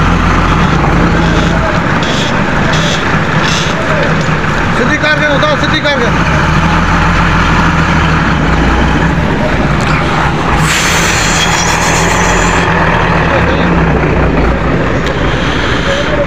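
A truck rumbles slowly into a shed onto a veranda-like bay, its engine a steady loud drone, with people talking over it throughout.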